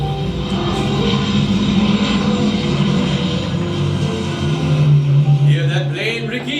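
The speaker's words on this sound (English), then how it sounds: "Hear that plane, Ricky? It's going to Lisbon." A propeller airplane bound for Lisbon drones overhead at night, a sustained steady engine hum that swells slightly louder toward the end.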